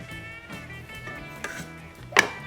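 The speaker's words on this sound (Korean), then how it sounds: "마늘을 편마늘로 썰어주세요. 반만을 쓸 때는 중식도가 좋아요. 길쭉길쭉하게 썰어주세요" A Chinese cleaver slices peeled garlic cloves lengthwise on a cutting board, a few soft irregular knife taps with one sharper clack near the end, quiet and close with no talk.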